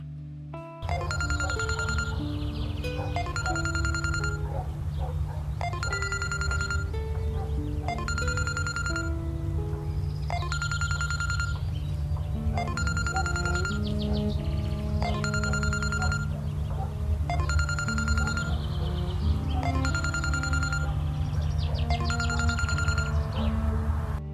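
A telephone rings on and on without being answered, a clear repeating electronic ring in steady bursts about every two seconds, loud and close over a low, constant background hum.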